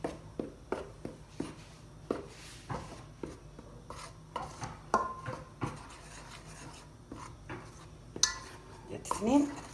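Dough being mixed by hand with oil and flour in a bowl, heard as a quiet, close run of rhythmic rubbing and tapping strokes.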